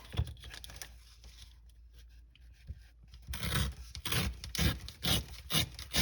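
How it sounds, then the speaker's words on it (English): Paper edges of a small Christmas junk journal ornament are trimmed, at first faint intermittent rubbing and snips, then louder repeated scraping and cutting strokes close up, no talk. "I'm gonna trim the edges."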